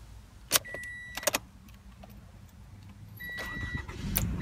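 A few sharp clicks and a brief electronic chime come first, then a 2015 Toyota RAV4 LE engine cranks and catches, settling into a low idle.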